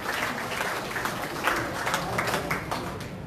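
An audience at a regional Liberty Korea Party appointment ceremony claps briefly, giving a short run of scattered, uneven applause with distinct individual claps at moderate loudness.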